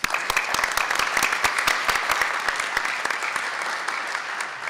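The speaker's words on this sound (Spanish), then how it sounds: "Un aplauso." An academic conference audience claps together in full, steady applause, many hands close and loud, a thick sustained patter that eases only slightly as it goes on.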